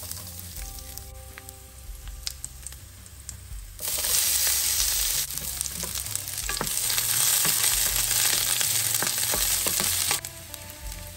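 Garlic frying in olive oil for Filipino pinakbet, a steady crackling sizzle that swells louder partway through, with occasional stirring clicks and no talking.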